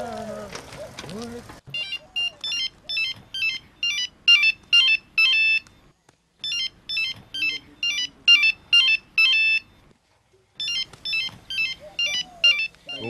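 A mobile phone ringtone plays a bright electronic melody in three rounds of quick repeated notes separated by short pauses, following a brief voice at the start.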